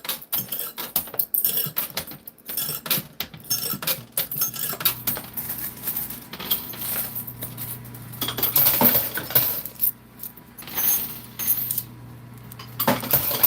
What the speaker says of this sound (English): This is called a coin pusher, Glimmo.